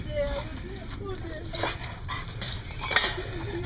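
A dog whimpers and yips in short, high, wavering cries close by, coming and going through the clip while people talk warmly over it.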